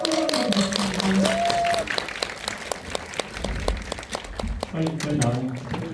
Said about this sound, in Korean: 무대로 박수로 환영해드리겠습니다